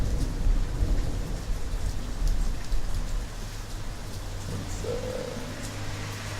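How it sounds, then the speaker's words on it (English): Steady rain falls beneath rolling thunder during a storm, with a low rumble in the first half that eases off, then a brief bird-like chirp, and no talking. "I think you got enough with the storm back there"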